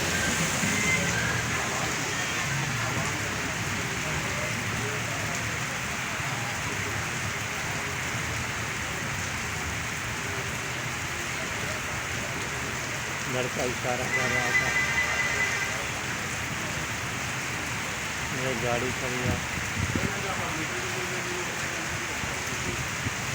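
Rain falls steadily on a road outside a row of shops during the rainy season, a constant hiss of droplets on pavement with occasional vehicle sounds, while people talk nearby throughout.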